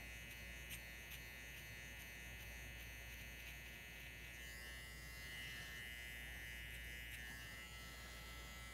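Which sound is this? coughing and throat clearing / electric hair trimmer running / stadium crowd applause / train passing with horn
electric hair trimmer running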